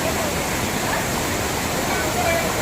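Water rushes over rocks at a dam, a continuous broadband roar that stays close and steady, with a faint voice underneath.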